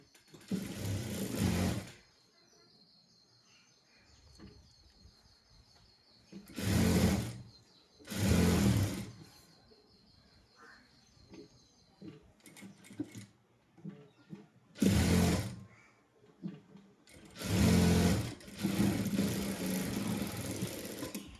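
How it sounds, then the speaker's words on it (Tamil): A sewing machine stitches a fabric seam in several loud, separate bursts of whirring stitches, each lasting a second or two, with quiet handling gaps between and no talking. "இப்போ இது ஸ்டிச் பண்ணிடலாம்."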